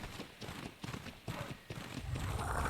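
Horses in the video game Ark Survival Ascended trot and gallop with quick, rhythmic hoof clops at moderate distance, followed by a rising neigh near the end, all fairly quiet.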